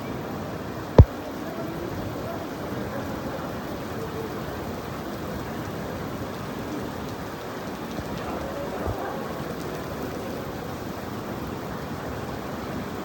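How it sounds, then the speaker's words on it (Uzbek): Steady rain falls outside on the street, a continuous even hiss of drops with one sharp knock near the start and no voices. "Ko'chada yomg'ir ham boshlab yubordi."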